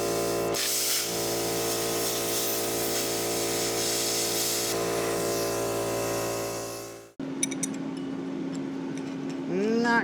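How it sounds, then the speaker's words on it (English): A plasma cutter runs close by during work on a metal gate and its hinges, giving a loud, steady hiss over a low electrical hum that stops abruptly after about seven seconds, followed by a voice talking. "I can hear the plasma cutter powered up."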